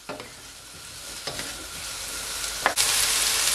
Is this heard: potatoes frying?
yes